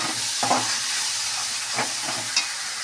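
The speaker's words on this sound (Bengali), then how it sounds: "এবার মাংসটাকে দিয়ে দিচ্ছি।" Chicken pieces frying in a pan over a coal fire, a steady broad sizzle with a few soft stirring clatters, close and fairly loud, no one talking.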